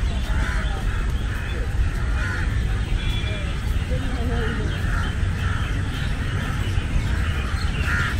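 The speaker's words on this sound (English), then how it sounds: "I can hear so much birds." Crows cawing and other birds calling on a busy urban beach in Chennai, with repeated calls standing out over steady crowd and surf noise, and people talking nearby.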